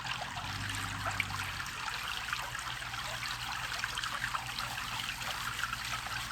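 Water swirls steadily in a gold pan during cold-weather glacial gold panning, a continuous close trickling wash with small splashes riding on top and no speech.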